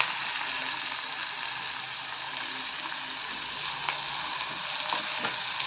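Onions frying in a pan until they turn reddish-brown, giving a steady, dense sizzle throughout with faint occasional stirring scrapes and no voices.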